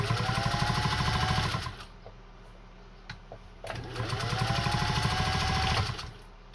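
A Singer 201-2 sewing machine stitches slowly down a thick, bulky seam in two steady runs of whirring, rhythmic needle strokes separated by a short pause, loud and close.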